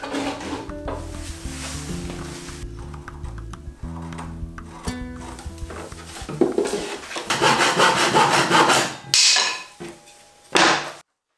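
Long pieces of scrap wood are sawn in a workshop for ledges on a plywood top, with rasping cutting bursts in the second half following a stretch of steadier tonal background.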